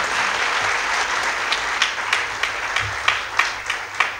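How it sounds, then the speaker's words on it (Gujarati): Audience applause in a hall for a woman para-badminton player who reached the Paralympics, a steady dense wash of clapping with sharper bursts rising near the end, close and loud, no voices over it. "અમને જોરદાર તાળી પડે"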